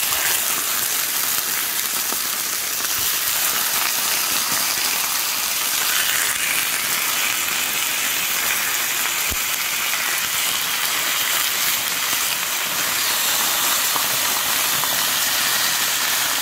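A beer-and-mustard marinated pork chop frying in a teaspoon of vegetable oil in a pan gives a steady, even sizzle and hiss that runs unbroken throughout, with no talking.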